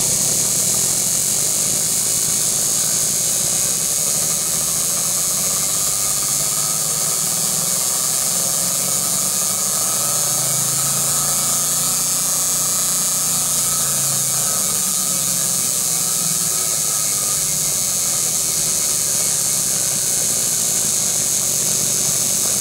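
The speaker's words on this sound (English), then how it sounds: "let's look at the effects when we increase our RPM" Engine running with an inductive ignition distributor as its RPM is raised, a steady broadband mechanical roar with a low hum that swells slightly around the middle, heard alone without talk.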